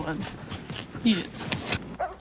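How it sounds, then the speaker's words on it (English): Several dogs in a cabin yip, whimper and bark in a busy, close jumble, mixed with a person talking. "the dogs just start making a lot of noise"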